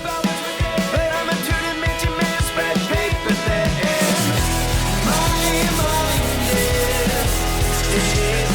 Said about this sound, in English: to remove all the orange peel and to increase the quality of the paint job, I have to sand all these carbon parts